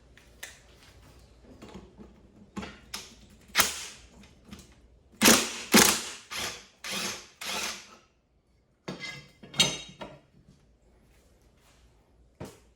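Nut buster wrench working on a nut of a Toro mower with a Kohler engine, a series of sharp metallic cracks and clanks in irregular bursts, some louder and clustered, with quiet gaps between.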